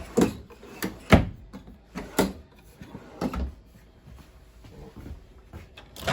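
Several wooden drawers in a 2021 Avenger 27DBS travel trailer slide and thump shut in quick succession, close by, with the knocks fading into quieter rattles.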